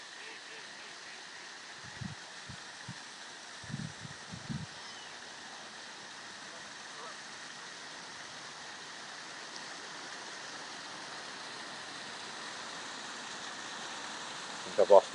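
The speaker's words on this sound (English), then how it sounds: "Enjoy the nice sound of water for a few minutes." Water flows steadily at a park, a soft continuous rushing wash that stays even from start to finish, with a few faint low knocks near the start and end.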